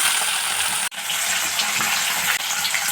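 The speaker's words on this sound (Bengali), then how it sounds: "এবার মাছগুলোকে ভেজে নিচ্ছি" Fish frying in hot oil in a pan for a Bengali home meal, a loud continuous hiss and sizzle that drops out sharply for a moment, then resumes close up with no voices.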